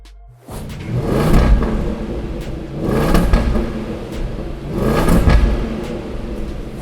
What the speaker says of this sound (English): let me show you one last time of how the stock exhaust sounds on this car